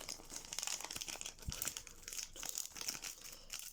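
Foil wrappers of Pokémon 25th-anniversary Celebrations card packs from a Pikachu V-Union box crinkle and tear open, with close, bright rustling bursts continuing steadily for several seconds.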